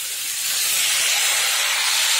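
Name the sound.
chopped pumpkin added to hot pan sizzling with small fish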